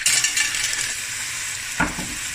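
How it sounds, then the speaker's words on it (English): About 300 grams of clams tipped into a pan with Thai chilies, a continuous close hiss and sizzle with a louder clattering thump of the shells landing near the end. "I'm going to add about 300 grams of clams"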